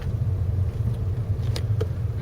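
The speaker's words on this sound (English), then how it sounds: "we've got a car coming the other way" A car comes the other way along a road lined with parked cars during a driving lesson, heard as a steady low engine and road rumble from inside the vehicle, with a few faint ticks and no voices.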